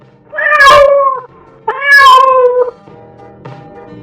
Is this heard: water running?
no